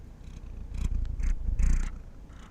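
A house cat purrs up close in a quiet room, a steady low rumbling purr that swells and fades across a few breaths, heard alone without talk.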